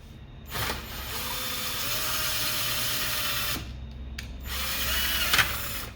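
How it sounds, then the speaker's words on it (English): A power drill with a poor-quality bit on a 3/8-inch shaft whirs steadily in two long runs, its motor pitch rising as the bit spins up, with short pauses and mechanical clicks. "What a shitty drill bit."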